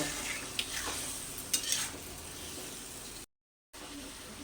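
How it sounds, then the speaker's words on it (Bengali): Masala paste for a rohu fish curry frying and being stirred in a pan with a little water, over a steady broadband sizzle with a few sharp scraping accents from the spoon, then a brief dropout near the end. "ঢাকা দিয়ে দিয়ে আমি মশলাটাকে কষে নিলাম"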